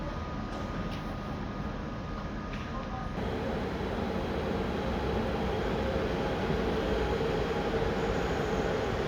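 A passenger train rumbles steadily over the Montenegro-Serbia border, heard as a constant loud rolling drone from inside the carriage, with no voices.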